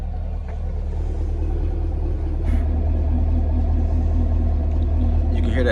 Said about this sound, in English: You can hear that heavier tone in sport